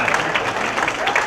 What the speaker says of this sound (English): Let's give a nice round of applause for Chris Gorgeous.